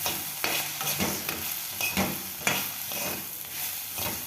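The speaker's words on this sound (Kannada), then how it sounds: "ಕೆಂಪಾಗೋವರೆಗೂ ಹುರ್ಕೊಳ್ಳೋದು ಅಷ್ಟೇ." Okra (bhindi) fries in oil in a pan for bhindi masala while being stirred, a steady close sizzle broken by repeated scraping stirs at a loose rhythm, with no talk.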